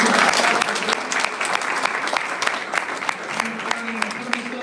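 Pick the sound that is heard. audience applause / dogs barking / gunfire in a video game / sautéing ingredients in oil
audience applause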